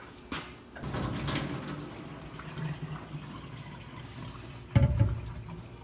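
Hot water streams into a pot of fig syrup and juice, three quarts poured in a steady rush with a louder splash near the end.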